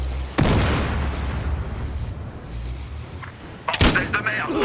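In Battlefield Hardline multiplayer, a sharp blast goes off near the start, followed by a rumbling background of battle and then another burst of loud explosive gunfire near the end.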